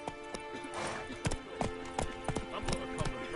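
Roach, the horse in The Witcher 3, gallops in a steady run of sharp hoof clops, fairly near, with a short whinny-like burst early on. The hoofbeats run under a continuous game backdrop.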